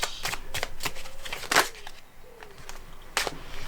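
Tarot cards being shuffled in quick riffling bursts, close and crisp, with a sharper flurry midway and another near the end.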